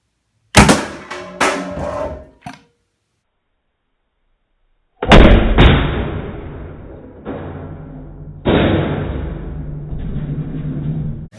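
Two beanbags shot together from a King Arms M79 airsoft grenade launcher: a couple of sharp close bangs, a pause, then several more loud thumping reports with ringing decay.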